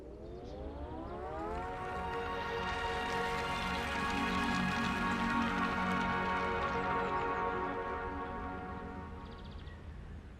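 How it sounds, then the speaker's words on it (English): The pedestrian alert of the new 2021 Fiat 500 electric car plays a melody: sustained harmonic synthetic tones swelling and fading like a soft siren chord, steady and alone without speech. "Here is the sound of our engine."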